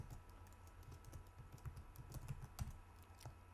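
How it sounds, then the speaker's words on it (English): Rapid clicking of keys on a computer keyboard while coding in Python, a steady run of light, close taps with a few louder strokes, no voices. "So we can do it by typing this."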